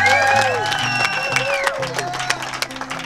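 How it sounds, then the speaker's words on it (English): Applause and cheering from a festival crowd at an off-grid van build event, steady clapping with scattered whoops, a busy wash of hand claps that tapers slightly toward the end, with some voices mixed in. "Let's give a big round of applause for Jeremy and all his efforts at the van build."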